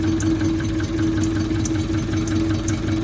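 A throttle-body engine idles on a cold start with a steady, close, loud mechanical drone and a faint regular ticking or knocking rhythm running through it, and no voices over it.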